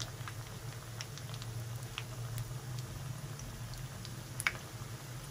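Onion pakoras fry in hot oil with a faint, steady crackling patter and soft bubbling over a low background hum, no voices.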